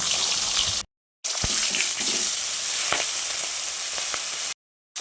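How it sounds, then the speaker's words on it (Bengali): A fish head rubbed with salt and turmeric fries in oil in a wok (kadai), crackling and sizzling loudly and close, with a few sharp pops and spatters and two abrupt silent breaks. "মাছের মাথাটাকে এবার আমি ভেজে নেব"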